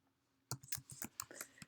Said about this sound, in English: my typing is not that great.